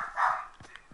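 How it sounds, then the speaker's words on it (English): A dog gives a single short bark, fairly close and moderate in loudness, followed by faint thumps, no talk. "Somebody's barking."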